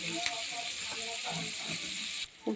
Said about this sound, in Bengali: উচ্ছেটা ভাজা হচ্ছে